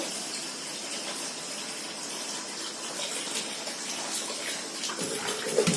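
Tap water runs steadily from a faucet as hot and cold water are mixed for washing rice in a home kitchen, a continuous gushing hiss with no talk.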